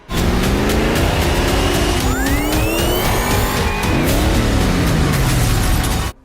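Roaring car engines in a Mad Max film rev and whine up and down in pitch, with tires screeching and rapid gear changes, loud and continuous throughout.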